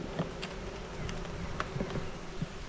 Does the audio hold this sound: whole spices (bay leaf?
no